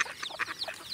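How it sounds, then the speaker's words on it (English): A duck quacks repeatedly in quick, raspy bursts, about five or six calls in a row, fairly close and clear with no voices. "female duck, drake, male duck"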